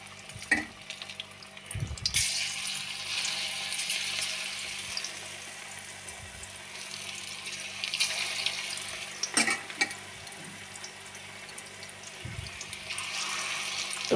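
Fritters (bora) fry in hot oil in a wok, a soft, steady sizzle broken by a few sharp splashes and clatters as pieces drop in.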